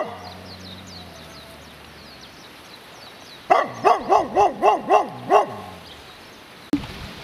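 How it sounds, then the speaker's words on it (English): A dog runs up barking loudly, a rapid burst of about seven close, sharp barks in a row, followed by one more bark after a short pause, with faint birdsong and outdoor ambience behind. "We found this dog, came running up to us, barking its head off, trying to scare us away."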